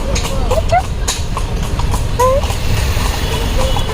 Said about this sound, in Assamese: ঘোঁৰা গাড়ীত উঠি